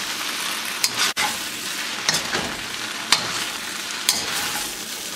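Beef and rice stick noodles with sliced green onions stir-frying in a hot wok, a steady loud sizzle with a few sharp clanks of the spatula against the pan, no talking.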